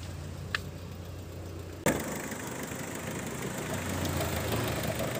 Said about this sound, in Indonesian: Nah, untuk kondisi mesin masih suaranya mulus ya. Dieselnya masih jreng-jreng.